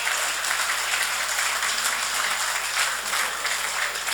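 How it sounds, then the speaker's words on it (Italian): An audience at a football awards gala in Sardinia keeps up steady, dense applause for the whole span, a continuous wash of clapping with no pauses. "Si meritano questo grande applauso."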